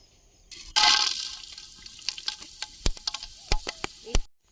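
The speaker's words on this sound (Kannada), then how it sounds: "ಲವಂಗ ಮತ್ತೆ ಮೆಣಸು ಹಾಕ್ತಾ ಇದ್ದೀನಿ." Cinnamon, cloves and pepper dropped into hot oil in a pan set off a sudden loud sizzle that settles into steady frying, broken by a few sharp clinks of a spoon stirring, close up.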